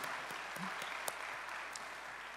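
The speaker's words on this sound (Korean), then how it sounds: "성도님들께서 뜨거운 격려의 박수를 한 번 더 보내주시기를 부탁드리겠습니다" Church congregation applauds the youth worship team and choir at a Sunday evening service, a soft, fairly distant round of clapping with a few sharper individual claps standing out.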